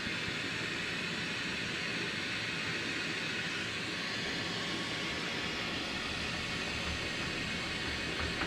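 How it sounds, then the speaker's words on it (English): An airplane flies overhead during a glass marble lampworking session, heard as a steady, broad roar that stays even and fairly distant throughout, with no talk. "There's the airplane flying overhead."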